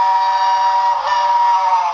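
A Hornby P2 model steam locomotive fitted with TTS sound sounds a steam whistle, a steady, loud, sustained chime held for the whole two seconds with no other sounds.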